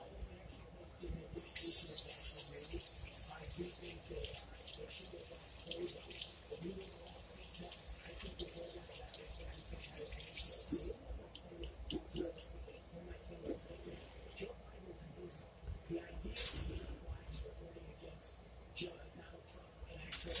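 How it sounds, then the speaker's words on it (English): Hands being washed under a running kitchen tap during brisket prep, a steady broadband water rush with brief louder bursts of splashing and dripping, fairly close, with a voice talking over parts of it. "Let me wash my hands real quick."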